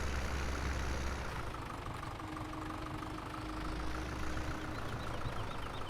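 A Massey tractor engine in Farm Sim 17 runs at a steady idle, a continuous rumbling drone with no pauses or talk over it.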